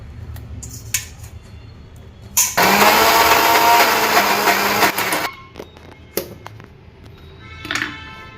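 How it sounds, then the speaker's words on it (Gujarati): Boiled, cooled spinach being ground to a paste in a kitchen blender: a loud, steady motor whir for about two and a half seconds between quieter moments and a few clicks, with no talk over it. "હવે આપણું બાફેલું પાલક છે એ ઠરી ગયું છે એને પીસી નાખીએ"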